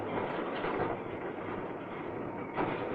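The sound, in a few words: borer train on the railway line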